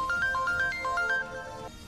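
A mobile phone rings with an incoming call, a short chiming electronic tune of quick repeated notes, moderately loud and clear, lasting under two seconds before cutting off.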